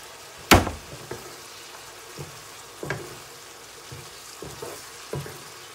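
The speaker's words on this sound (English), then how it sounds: "I'm going to keep stir frying this until it's cooked" Minced meat being stir fried in a pan for a Chinese noodle sauce, with a sharp utensil knock at the start, then a steady low sizzle broken by intermittent scraping stirs roughly every second, heard close up.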